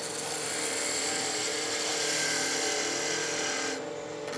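A skew chisel cutting long point downhill on wood turning on a lathe gives a continuous, even, close rasping hiss that drops away abruptly near the end.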